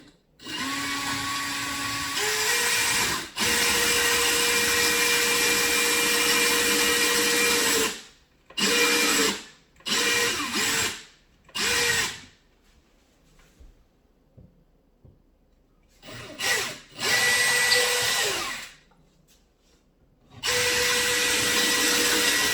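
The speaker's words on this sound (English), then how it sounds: "Okay, so I'm going to drill my two holes." A power drill bores two holes in a wall to mount a magnetic knife holder, giving loud, close whining bursts of several seconds each, broken by short stops and restarts with quiet gaps between them.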